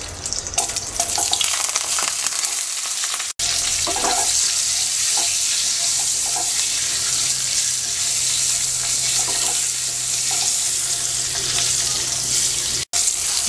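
Egg frying in a hot pan seasoned with a little turmeric and salt, giving a loud, steady, close sizzle that runs without a break for the whole stretch.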